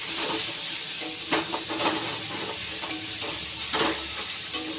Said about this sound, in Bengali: এই সেদ্ধ করা পাতা আর রসুন লঙ্কার সাথে কিন্তু খুব ভালোভাবে মিশিয়ে নিতে হবে